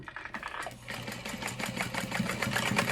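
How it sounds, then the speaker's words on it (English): A sewing machine stitches handbag pieces at a half-inch seam allowance, running as a fast, even mechanical chatter that builds slightly in speed and loudness, close by. "And sew using that 1/2 inch seam allowance."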